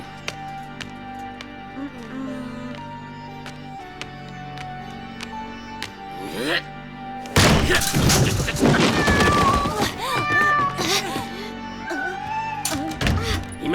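A cartoon cat in the animated series Lou! yowls and caterwauls in rising and falling wails amid loud crashes and thuds. Quiet, sparse knocks come first, then a sudden burst of chaotic noise.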